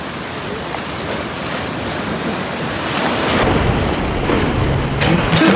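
Ocean waves wash in at the sea, a steady broadband surf roar that swells louder in the second half, with gusty wind buffeting the microphone and no voices.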